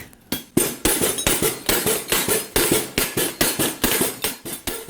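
Metal plates on a folk rhythm instrument are struck in a fast, even beat, each bright metallic clank ringing briefly before the next, loud and close with no talk.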